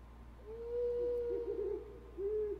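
In the Deadly Premonition 2 night setting, an owl gives a long drawn hoot that breaks into a wavering trill, then another short hoot, soft and distant over a steady low background drone.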